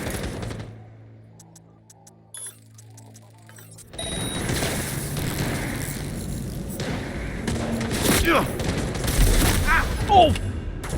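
Rapid rifle fire erupts in a Cyberpunk 2077 firefight after a quieter musical stretch, dense volleys of shots and thuds continuing loudly, with a voice speaking over the combat.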